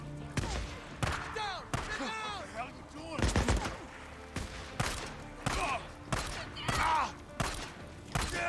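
Gunfire in Days Gone as a zombie is shot: about ten sharp, separate shots in an uneven rhythm, each close and punchy, with game noise and speech scattered between them.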